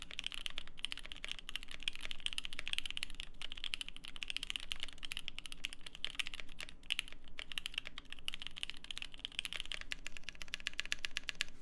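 Close, continuous typing on a Bakeneko mechanical keyboard with Durock L7 switches, a dense run of crisp clacks and occasional rattly strokes lasting several seconds without any speech.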